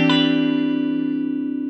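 A Tele style electric guitar rings out through a clean solid state amp model on a Line 6 Helix LT, a single sustained chord struck once and left to decay smoothly with a slight shimmer, loud and close.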